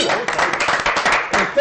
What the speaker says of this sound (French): On l'applaudit maintenant.